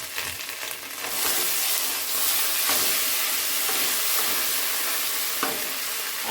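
Paneer frying in hot oil with turmeric added, a loud dense sizzle with spattering crackles and occasional stirring clicks, continuous and close.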